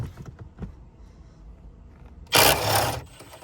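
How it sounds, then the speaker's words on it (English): A 13mm socket wrench loosening hybrid battery bolts in the trunk of a Ford Fusion Hybrid, with a few faint taps followed by a loud burst of rapid ratcheting lasting under a second, close by. "Just take your 13mm socket."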